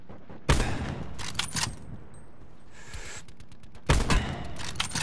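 Gunfire in the video game Call of Duty Black Ops 4: two loud, rapid bursts of shots, one near the start and one near the end, with a few scattered quieter shots in between and no talk.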